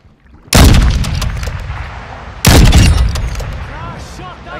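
Gunfire in a first-person shooter video game: two loud, sharp blasts about two seconds apart, each with a long rumbling tail, close and heavy, with faint background game noise between them.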